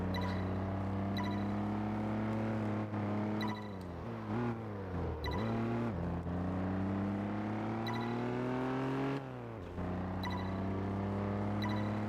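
A classic car driven in Test Drive Unlimited 2 holds a steady engine drone with a dip and recovery in pitch midway, alone and moderately quiet, without talk.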